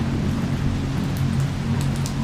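Steady rain falling in a small house's veranda setting, a continuous even hiss with a low rumbling undertone throughout, no voices.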